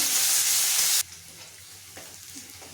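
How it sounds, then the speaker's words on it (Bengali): Chopped onion and green chili fry in hot oil with a loud, close, hissing sizzle for about a second, then drop to a faint crackle. "পেঁয়াজ কাঁচা লঙ্কাটা ভালো করে ভেজে নেব।"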